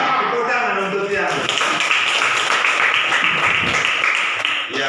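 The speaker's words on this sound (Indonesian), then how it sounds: "Tepuk tangan untuk Tiang" A group gives sustained applause for Tiang during a lesson, a dense, loud, continuous clapping that runs for several seconds with voices talking over it.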